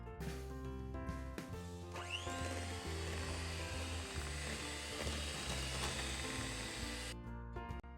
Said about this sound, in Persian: کرم کاتلا رو که اضافه کردیم با دور تند همزن هم میزنیم